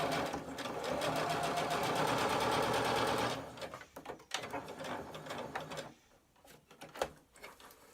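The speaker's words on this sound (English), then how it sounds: "on fabric this lightweight, I just pull it back and quickly top stitch using my foot edge as a guide" A sewing machine runs quickly as it top stitches lightweight fabric, a loud steady rapid whir for about three seconds, then stops into softer handling clicks and rustles.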